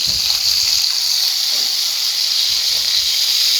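Steady, loud sizzling hiss of snakehead fish frying in hot oil, continuous and close, with no talking over it.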